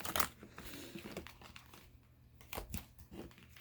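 Tarot cards being shuffled by hand, soft papery riffles and crinkly rustles in short bursts, close and quiet with no voice.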